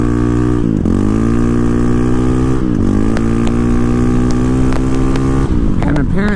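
A Honda CRF450RL with an ECU tune rides on pavement, its engine loud and close, holding steady tones with sharp revs and gear changes punctuating the run.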